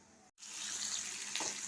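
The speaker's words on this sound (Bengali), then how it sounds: "তেলেতে পাঁচফোড়ন দিয়েছিলাম" Panch phoron spices sizzle in hot oil in a pan, starting abruptly after a brief gap and holding as a steady, bright hiss close by.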